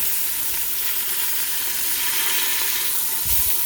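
Boneless beef short ribs sizzle steadily as they brown in a hot pan, a continuous loud frying hiss with a brief bump of handling near the end.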